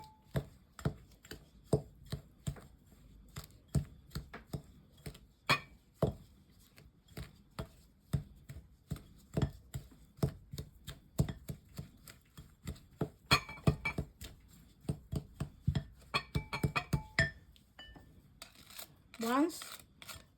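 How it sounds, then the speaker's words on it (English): Butter being mixed with a spatula for cupcake batter, giving a close series of sharp taps and scrapes against the bowl in an uneven rhythm, with a brief rustle near the end. "First you mix the butter with the spatula."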